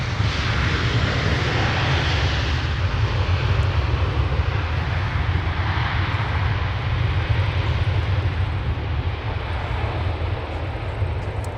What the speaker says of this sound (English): It didn't take them very long for that 777 airframe to rotate and soar into the sky